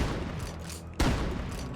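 A pump shotgun fires in the video game Rust: one sharp, loud blast lands mid-clip against a dense, continuous bed of game noise.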